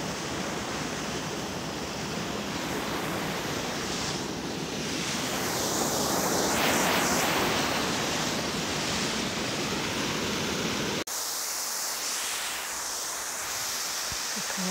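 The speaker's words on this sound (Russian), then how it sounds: "Я у водопада." Waterfall at an outdoor beauty spot, a steady loud broadband roar of falling water that swells slightly in the middle, then drops to a quieter rush near the end.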